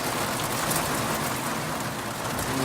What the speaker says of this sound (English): the rain begins